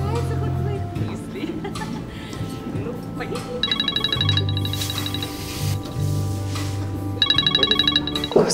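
A telephone rings in two bursts of electronic trilling, loud and close, with someone talking before, between and under the rings.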